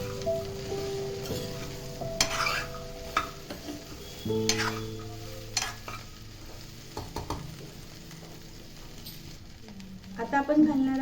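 Okra being stirred in a pan, with a steady sizzle and repeated scraping strokes of a spoon, close and fairly loud, ending in a brighter burst of frying crackle.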